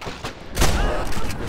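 Gunfire in the World War II shooter Medal of Honor: Airborne, with a dense burst of loud, close shots and booms filling a brief moment.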